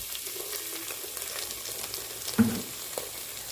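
Saltfish fries in a pot with a soft, steady sizzle and crackle, one brief clatter midway; faint and close, no voices.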